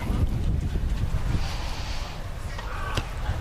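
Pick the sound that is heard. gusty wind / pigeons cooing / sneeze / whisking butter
gusty wind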